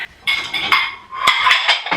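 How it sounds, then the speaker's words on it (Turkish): Dishes and cutlery clink and clatter as a dishwasher is unloaded, with bright ceramic knocks and rattles in two busy bursts close at hand. "Makinemi önce bir boşaltmak. Çünkü bulaşık vardı içinde."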